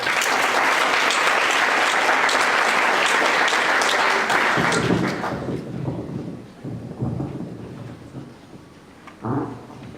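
An audience at a July 2016 college orientation applauds to welcome the president, a loud dense burst of clapping that fades after about five seconds into scattered claps, murmurs and a brief late flurry.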